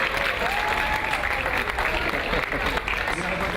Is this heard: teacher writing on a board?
no